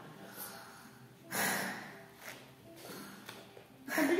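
A narrator's voice imitates a wolf snoring, with a few breathy snorts and gasps spread out over several seconds, close and fairly quiet.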